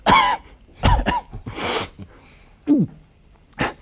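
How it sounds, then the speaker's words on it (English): A child coughing in several short, harsh bursts separated by pauses, close and clear with a throaty rasp on one cough and no other sound around it. "I also cough all the time"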